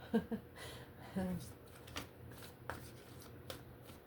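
Tarot cards shuffled by hand in a quiet room, a few soft riffling bursts and taps, close and faint.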